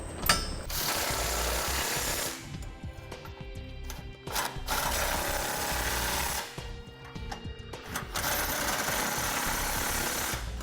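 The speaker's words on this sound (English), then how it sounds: "We'll use a 19mm socket to tighten down the bolts." A socket wrench with a 19mm socket tightening trailer hitch bolts on a 2014 Nissan Rogue, heard as long runs of dense rapid ratcheting clicks broken by a few short pauses, loud and close with no talk.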